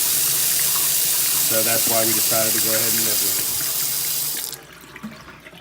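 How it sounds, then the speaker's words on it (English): A Delta two-handle kitchen faucet sprayer runs water in a steady loud hiss that cuts off near the end, with someone talking over the flow. "this is our sprayer, how the sprayer works."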